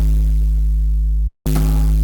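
Synthesized sine tone layered with modulated noise and heavy distortion, a sustained buzzing drone with strong low harmonics that cuts out briefly near the middle, then returns brighter and harsher.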